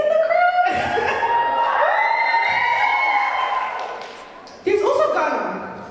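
An audience crowd cheers, whoops and shouts loudly and continuously, swelling then fading before a fresh burst of cheering near the end.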